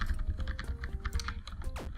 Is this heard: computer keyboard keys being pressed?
yes